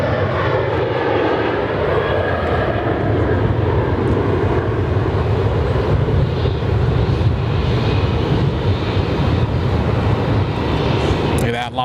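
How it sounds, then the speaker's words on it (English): A Finnair jet departing Sydney Airport roars loudly and steadily for the whole stretch, a powerful continuous engine rumble that dominates everything. "I'll wait till this Finnair departs."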